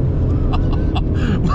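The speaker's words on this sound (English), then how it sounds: "Oh, loads of wheel spin." A BMW M8 Competition Gran Coupe tuned by AC Schnitzer to 720 bhp launches hard on damp tarmac with heavy wheel spin, giving a loud, steady low engine roar right up close with rising higher tones near the end.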